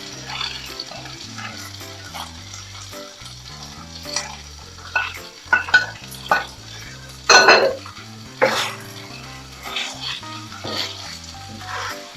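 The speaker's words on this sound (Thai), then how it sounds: "แล้วก็จะเติมกุ้งที่เราเตรียมไว้นะคะ ลงไปผัด" Fresh shrimp stir-fry in a pan for pad thai, with a bright sizzle and repeated scraping and clattering spatula strokes that come in bursts over soft background music.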